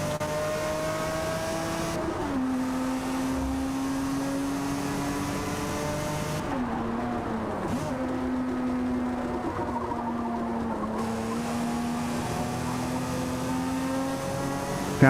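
A sports car engine in the Forza Motorsport racing game, revving and accelerating through repeated gear shifts, loud and continuous with rising and dropping engine pitch.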